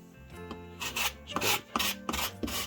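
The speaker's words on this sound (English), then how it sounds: "I am taking just my razor saw and I'm just grabbing it and scrape" Razor saw blade dragged across wood to weather it, rapid rhythmic scraping strokes, close and fairly faint, alone with no talking.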